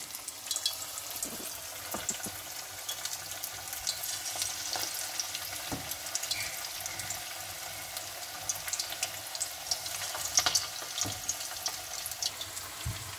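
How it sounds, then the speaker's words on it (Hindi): Chicken pakoras dropped into hot oil over low-to-medium heat fry with a continuous soft sizzle and bubbling, punctuated by irregular clicks and taps of utensils, with no one talking. "ये देख लें जी, पकौड़े हम डाल रहे हैं, बिल्कुल भी ओवर क्राउडेड ना करें"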